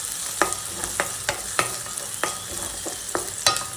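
Ginger and garlic fry in a pan for egg masala as a spatula strikes and scrapes in sharp, irregular knocks over a light sizzle, near and clear, with no voices.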